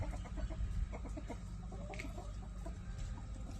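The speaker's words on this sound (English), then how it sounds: "this stubborn rooster will not sleep in the coop" A rooster clucking close by in a farmyard on a cold morning, a run of short soft clucks over a low steady background hum, with no talking.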